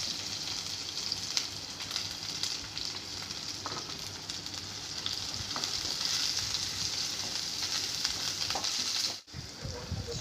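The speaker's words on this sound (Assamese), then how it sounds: "এতিয়া দিছোঁ এটা মিডিয়াম চাইজৰ সৰুকৈ কাটি থোৱা পিঁয়াজ" Finely chopped medium onion fries in hot oil with dried chili and panch phoron, a steady close sizzle with occasional stirring scrapes and a brief dip near the end.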